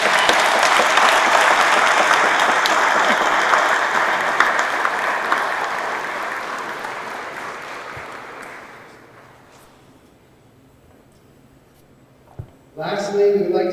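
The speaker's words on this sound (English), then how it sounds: "Put your hands together, bigger than a little golf clap, a big golf clap for Mr. Don Martone." A big round of applause from an awards-dinner audience at an annual Rotary sports awards event, dense clapping that fades out over several seconds before a brief clatter of sounds near the end.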